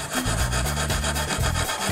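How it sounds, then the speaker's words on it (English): A brass wire brush scrubs back and forth over MDF wood, knocking down raised bulges around driven nails; steady close rasping strokes fill the whole stretch without any voice. "use the brass brush to just remove the bulges of wood around the nails"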